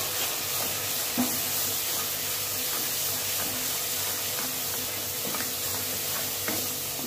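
Ground cumin, turmeric, Kashmiri red chilli and coriander powders fry in oil for dhaba-style chana dal, giving a steady close sizzle and hiss with occasional soft stirring scrapes and no voices.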